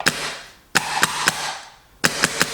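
A tuned Ripper paintball marker fires sharp, loud shots in quick bursts, a single shot, a run of three to four, then another short burst, each a crisp mechanical crack.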